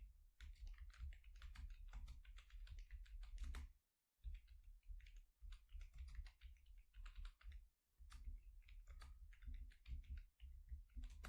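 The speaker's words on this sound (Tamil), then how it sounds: "ஸோ இதில் நான் இப்போ டைப் பண்ணுறேன்." Steady bursts of computer keyboard typing on a coding setup, quick clustered keystrokes with a few short pauses, close and clear with no talking.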